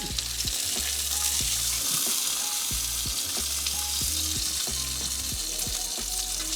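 Bacon frying with sauce brushed on, a steady close sizzle and crackle of fat in the pan with repeated soft scrapes and taps of a utensil, no talking.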